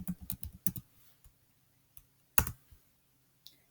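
Typing on a computer keyboard to rename a text object in the Construct 3 game engine: a quick burst of close, crisp key clicks, then sparse single taps and a louder keystroke cluster, with no talking.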